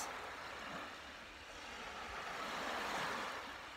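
Ocean waves wash steadily in a soft, broad hiss, swelling and receding gently at a moderate distance with no voices.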